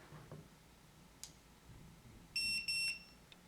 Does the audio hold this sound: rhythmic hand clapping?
no